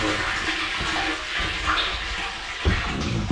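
Rainwater gushes and splashes steadily as it is pumped into a tote, a continuous rushing flow with a slight change in tone near the end.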